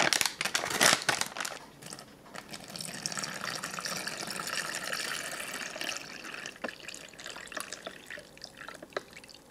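Cold water poured from a faucet-like stream into a plastic MRE drink pouch up to its fill line, a steady gurgling trickle with crinkling of the pouch at the start.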